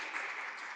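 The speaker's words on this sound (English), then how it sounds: "let's applause for Liudvika's presentation and discussion" Applause breaks out after a presentation at an academic symposium, a dense, steady wash of clapping from an audience that fills the whole short moment at moderate volume.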